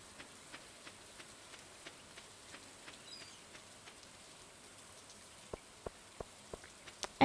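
Rain falls in the farming video game Stardew Valley as a faint, even hiss, with soft regularly spaced taps and a few louder ticks near the end.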